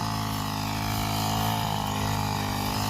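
A grass cutter's small engine runs loud and close, a steady, harmonic buzzing drone with no break.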